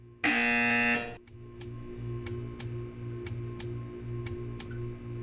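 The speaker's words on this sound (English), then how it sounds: "You will hear a buzzer." A loud harsh buzzer from the video game Portal 2 blares for about a second, followed by a quieter mechanical ticking that repeats at a steady rhythm.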